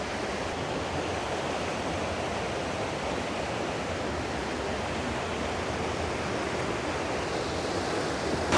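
A river in the White Mountains of New Hampshire rushes past in a steady, dense roar, loud and unbroken, with no voices over it.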